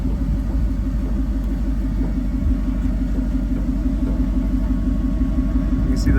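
Vehicle engine running steadily at 1,000 RPM during a tire grip test, a low, loud, continuous rumble with a slight pulsing texture, no talk.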